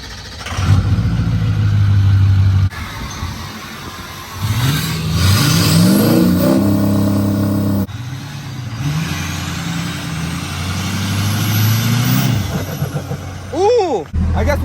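A race truck fitted with a custom lift kit roars through a hard first pull, its engine rising in pitch through repeated revs and shifts, loud and close, with brief lulls between bursts.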